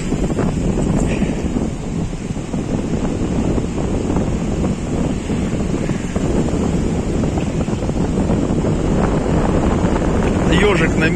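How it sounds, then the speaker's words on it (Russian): Strong wind buffeting the microphone on a Black Sea beach at Arkhipo-Osipovka during a storm: continuous loud low roar and rumble with the surf's wash mixed in, steady throughout. "ветер прям сильный."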